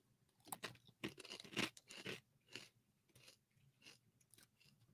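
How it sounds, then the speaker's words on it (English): Crunchy food being chewed in several loud, close bursts of crisp crunching, irregular and bunched mostly in the first two seconds, then fainter crunches with pauses between bites. "I want to see if people can hear the crunch."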